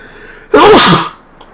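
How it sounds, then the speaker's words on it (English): A single loud, close human sneeze, one sharp burst lasting about half a second, alone with no talk around it. "I'm gonna sneeze."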